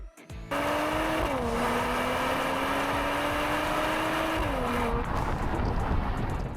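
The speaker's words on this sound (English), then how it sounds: "This car builds speed at an astonishing rate." A 2024 Mercedes-AMG GLE 53 Coupe accelerating hard, its engine note climbing steadily in one long pull with a brief gear change partway through, loud and close over road and wind roar.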